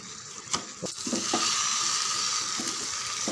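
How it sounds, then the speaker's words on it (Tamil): Chicken sautés with rock salt in a pan, a dense frying sizzle building after a few clanks and stirring scrapes, steady and close with no talking. "நல்லா ஒரு 7-8 நிமிஷம் நல்லா வதக்கட்டும்."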